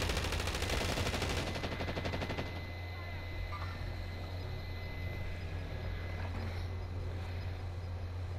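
Gunfire from several teams in Call of Duty: Warzone, a rapid burst of automatic shots at the start giving way to scattered distant firing under steady game ambience, with a player talking.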